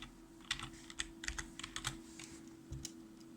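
Keys on a computer keyboard are struck in short irregular bursts of crisp clicks, quiet and close, with a low steady hum beneath.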